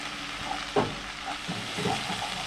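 Spice paste seasoned with turmeric and salt fries in hot oil, giving a soft continuous sizzle broken by brief scraping stirs and a few louder spatters, close and alone without voices.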